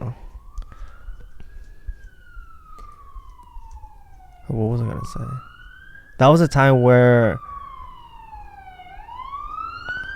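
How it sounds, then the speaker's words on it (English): A police siren passes outside, its wail rising and falling steadily through the clip and swelling into loud bursts midway, while people keep talking over it. "I had it and the siren kicked off."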